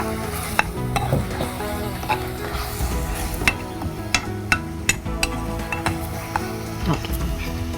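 Aromatics for a prawn pasta are stirred with a little salt in a hot pan, making a dense, continuous sizzle broken by regular sharp clicks of a utensil scraping the metal.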